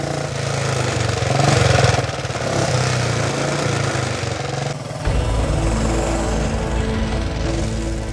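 A 1930s Brooklands Special racing motorcycle engine runs loud and close for the whole stretch, with a steady harsh buzzing roar. It shifts to a deeper, thumping drone partway through, and nobody speaks.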